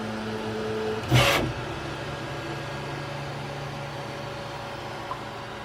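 A 3D printer at work on a custom GPU shroud, a low steady mechanical hum with faint tonal stepper whine, one brief loud noisy burst early on and a small click near the end.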